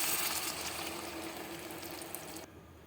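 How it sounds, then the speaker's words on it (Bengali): Water poured into a pan of frying tomatoes and cashews makes a soft, continuous hissing splash that fades away near the end, quiet and without talk. "জল ঢেলে সব কিছু ভালোভাবে সেদ্ধ করব।"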